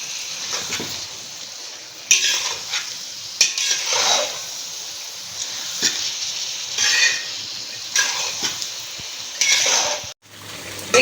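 Chopped tomatoes fry in a karahi for chicken karahi, with crushed coriander added, while a utensil scrapes and stirs in repeated strokes over a constant sizzle. Close and fairly loud, with no voices.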